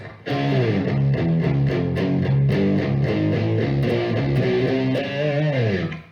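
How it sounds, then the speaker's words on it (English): An electric guitar plays a repeating riff through an amp with a Rock Stuff RS808 Tube Screamer clone overdrive pedal switched off, a steady chugging pattern of chords at moderate loudness, no other sounds. "without the overdrive in, this riff sounds like this."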